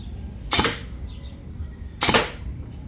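An airsoft DMR rifle tuned to about 500 FPS fires two separate, sharp snapping shots roughly a second and a half apart, loud and close, with a faint hum between them and no talking.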